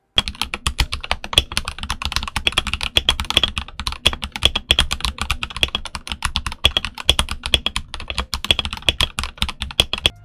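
Rapid, continuous typing on a stock RK61 mechanical keyboard, dense close-up key clacks in a fast irregular rhythm for the whole stretch, loud and alone.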